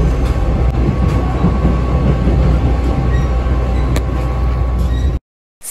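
A Series 485 zashiki tatami-floored train rumbles steadily along the rails out of Shinjuku, with a continuous low roar and faint clicks, close and loud, then cuts off abruptly.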